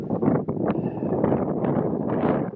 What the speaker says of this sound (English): It's just getting windy.